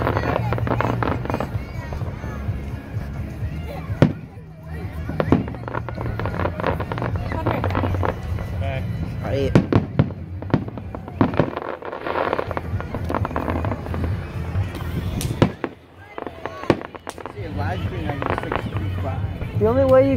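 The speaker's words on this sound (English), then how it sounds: "We haven't been to the Springfield fireworks in so long." Fireworks at a Springfield July 4th show crackle and pop in dense bursts of varying strength, with people talking over the bangs throughout.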